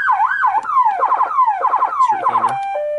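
A Kenwood siren mounted on a truck cycles through its rapid yelp tone, a loud, close warbling wail sweeping up and down in quick repeated bursts, with no talk over it.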